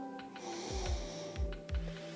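Deep, slow breaths during a yoga session in puppy pose, several soft rasping inhales and exhales close to the mic, with no talking.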